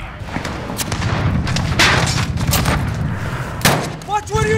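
Booming explosions and gunfire in Call of Duty Modern Warfare, a Domination match on the Piccadilly map, heavy and continuous with sharp blasts, while in-game radio voices talk over the battle.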